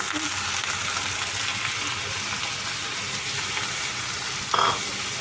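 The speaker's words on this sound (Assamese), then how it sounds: "পিঁয়াজখিনি মই আধা ভজা কৰি লৈছোঁ এতিয়া মই ঢালিম বিন" Half-fried onions sizzle in a pan as beans are tipped in for poha, a steady broadband frying hiss with a brief louder burst of sizzle near the end.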